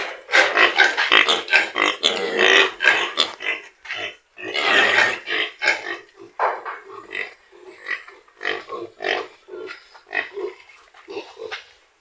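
Hybrid and native pigs grunt repeatedly at close range on a farm, a series of short, uneven grunts and snorts with brief pauses between them, with some louder bursts early on.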